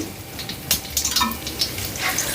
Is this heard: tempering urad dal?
yes